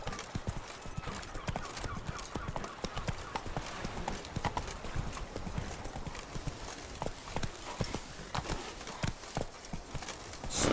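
Roach, a horse in The Witcher video game, trots with steady clip-clop hoofbeats throughout, the rhythmic footfalls fairly close and clear, with no talking over them.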